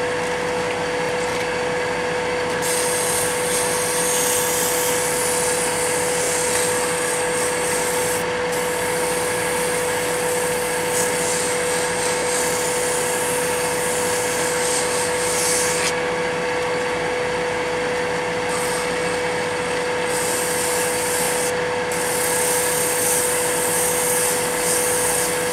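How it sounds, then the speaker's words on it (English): Wood being sanded for a Christmas light project: a steady, continuous abrasive rubbing that stays close and loud throughout, with a constant hum underneath and no speech. "do a little sanding"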